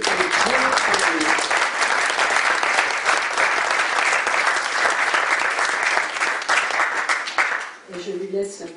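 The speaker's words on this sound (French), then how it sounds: "Donc je vous demande de l'applaudir parce qu'elle a beaucoup travaillé" A festival audience gives the organiser sustained, loud applause, a thick, even roar of clapping that tails off near the end as a voice comes in.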